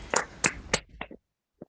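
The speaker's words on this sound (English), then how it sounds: "give Paul Chima a big round of applause" A few separate hand claps from a small club meeting audience, three sharp claps close together followed by softer scattered taps and a last lone clap after a pause; no talking.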